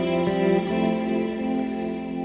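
Electric guitar on a pedalboard switcher with reverb plus a touch of tremolo, sustained chords shimmering and pulsing gently, up close and prominent with no talking.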